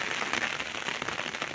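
Steady rain falling over a village home and road lined with coconut trees, a dense constant hiss with faint patter, close and even throughout.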